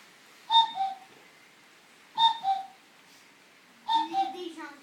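A cuckoo's two-note falling call sounds three times at even intervals, clear and fairly close against a quiet background, with a faint low voice near the end.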